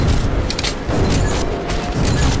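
Gunfire and heavy impacts in the video game Metro: Last Light Redux, a loud burst of repeated shots and booms with mechanical clatter in quick succession, no talking over it.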